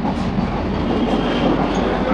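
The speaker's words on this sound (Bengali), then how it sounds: "তো বিধাননগর রেল স্টেশন কিন্তু আমাদের ছেড়ে বেরিয়ে গেল এই ট্রেন" A Ranaghat–Sealdah AC local train pulls out of Bidhannagar Road station, heard from inside as a steady loud rumble with clickety-clack wheel beats and faint squeals, no talk over it.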